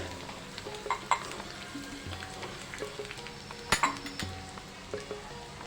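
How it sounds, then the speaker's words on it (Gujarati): Ground ginger-chili paste with turmeric and coriander-cumin powder fries in a pan while a spoon stirs. A soft continuous sizzle runs under repeated scrapes and a few sharp metallic clinks against the pan. "હલાવી લઈશું બરાબર"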